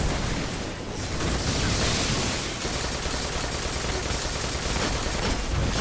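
A Warlock's Nova Bomb super from Destiny erupts in a roaring, sustained blast of broadband noise, with crackling gunfire and explosions continuing beneath it.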